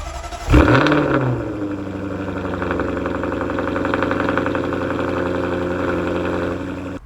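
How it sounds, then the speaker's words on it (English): Cold start of a Jaguar F-Type's 5-litre supercharged V8: a loud starter catch and sharp revving flare, then settling into a high, steady, throbbing fast idle close to the microphone, with no talk. "how does the 5 litre supercharged V8 in the Jaguar F Type stack up in comparison to those cars I've just listed off? I'll let you be the judge of that. Just listen to this cold start."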